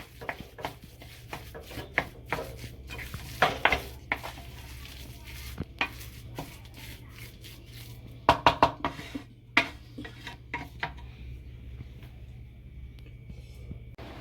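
Mashed potato and chicken keema being mixed with coriander in a pan, a series of uneven scraping and tapping knocks from a spoon against metal, with a faint sizzle underneath.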